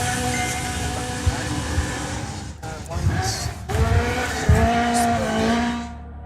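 A rally car at full commitment in a 2025 Working Dog Rally sprint roars past close by, engine note rising and falling with tyre noise, while a commentator talks over it.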